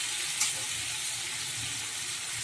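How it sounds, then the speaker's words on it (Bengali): Pumpkin, potato and eggplant pieces sauté in a hot wok, giving a steady, bright sizzling hiss throughout with one small clatter near the start and no voices. "সবজিটা দিয়ে দিলাম কড়াতে, দিয়ে এবার সবজিটা ভালো করে সাঁতলে নিচ্ছি"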